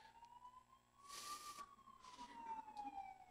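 A fire engine siren in Poland passes outside, heard faintly at a distance as a single drawn-out wail that rises and then slowly falls in pitch over a quiet room.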